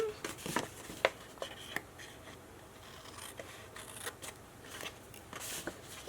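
Scissors trim the edges of a small paper rectangle at a craft table, faint, close snips and paper rustles coming in short irregular bursts.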